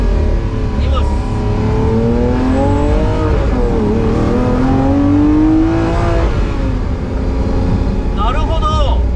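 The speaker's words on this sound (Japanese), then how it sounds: "今倉林さんに言われて5000回転から音が変わるっていうのを聞いたので" A Lamborghini Siân Roadster accelerates with a loud, close engine whose pitch climbs steadily, dips briefly, then rises again as the tone hardens at higher revs.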